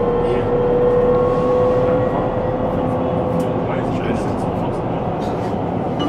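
An S-Bahn train on the new S4 line pulls out of the underground City Tunnel Leipzig, a steady low rumble with a sustained tonal whine that slowly eases, while people talk nearby throughout.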